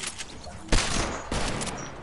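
Video game gunfire: two sharp, loud shots ring out alone, one near the middle and another just after, each with a brief echoing tail over quiet background noise.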